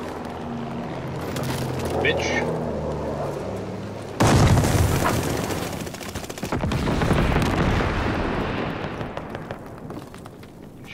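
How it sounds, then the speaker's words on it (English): Bombing run explosions in a team deathmatch shooter game, a sudden loud blast followed by rolling booms and gunfire rumble, with a voice talking over the start. "Friendly bombing run inbound."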